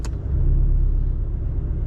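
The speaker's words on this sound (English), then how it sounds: "Not sure if on the audio you can hear the difference in the exhaust, but it does get a little bit louder" A Porsche 718 Boxster's exhaust in sport mode gives a low, steady rumble close by, briefly rising at the start before settling into a continuous deep drone.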